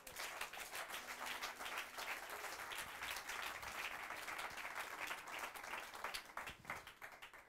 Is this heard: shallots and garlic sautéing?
no